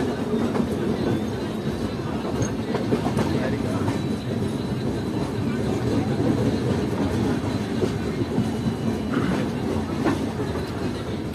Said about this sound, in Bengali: ফাইনালি আমাদের ট্রেন এখন ঢুকছে আসানসোল জংশন রেলওয়ে স্টেশন